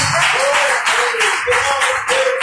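A Pentecostal church congregation claps in rhythmic bursts, loud and close, with a sung or chanted voice line running through the clapping.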